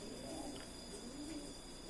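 Pigeon cooing, soft low rolling coos over steady background hiss, continuous but fairly faint and somewhat distant, with no talking.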